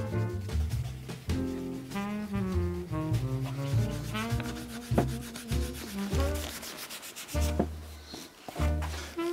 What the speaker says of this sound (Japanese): ここをサンドペーパーでもう一回やすってもう一回ふのりをやっていきます